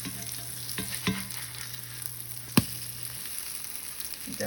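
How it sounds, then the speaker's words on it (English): Pumpkin French toast fries in a pan with a soft, steady sizzle, with a few quiet scrapes and a sharp tap of a utensil, close and without talk. "I'm gonna cook this about 2 to 3 minutes on each side."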